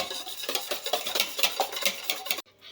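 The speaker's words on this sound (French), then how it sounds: "Vous mélangez vos œufs jusqu'à ce que le mélange blanchisse." Eggs beaten in a mixing bowl for a cake batter, a quick steady run of clinking strokes against the bowl, close and fairly loud, stopping abruptly near the end.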